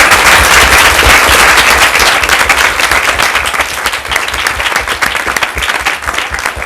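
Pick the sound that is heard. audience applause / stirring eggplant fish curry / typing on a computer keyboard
audience applause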